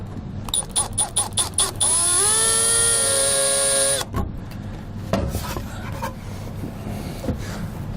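A power drill bores through the roof of a 2017 Ford van for a MaxxFan Deluxe vent, opening with a few short bursts, then a loud sustained whine of about two seconds, followed by scraping and handling noises.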